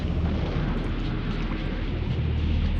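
Heavy, sustained rumbling boom from artillery fire in the strategy game Supreme Ruler Ultimate, a dense continuous roar of distant blasts with no clear separate shots, loud and steady throughout.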